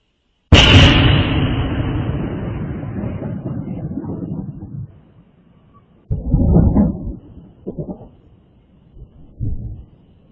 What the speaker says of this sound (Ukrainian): Вибух пролунав близько третьої ночі на території військової частини у Карачеві.